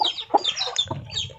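Native village chickens, week-old young stock in a farm coop, cluck and chirp in short overlapping bursts, near and moderately loud, with no talk over them.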